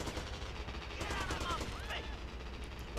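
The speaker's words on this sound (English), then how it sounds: "Wait, why are you shooting me?" Gunfire in GTA: Liberty City Stories, heard as a continuous faint crackle of rapid shots beneath a person talking throughout.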